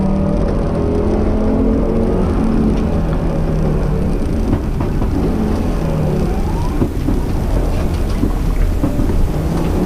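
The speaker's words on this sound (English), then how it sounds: "Hitting 60 briefly before braking hard into the next chicane" A rally car at the Lombard Rally, Grimsthorpe Castle, speeds up to about 60 and brakes hard into a chicane, a loud, dense, continuous engine rumble with rough broadband noise.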